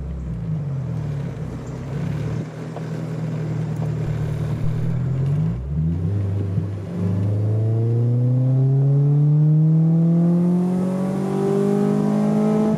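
A Honda Civic hatch with a B20V engine revs hard during a ride, a low steady drone giving way to rising, climbing engine harmonics as the car accelerates, loud and close from inside the cabin.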